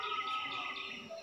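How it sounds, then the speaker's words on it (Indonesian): Birds chirp and tweet in a dense outdoor chorus, soft and somewhat distant, steady throughout with no voices. "dengan kicauan burung,"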